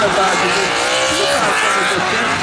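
A Scion tC drift car on V8 Power Tires roars loudly at a drifting event, with continuous engine noise and tire squeal filling the whole moment.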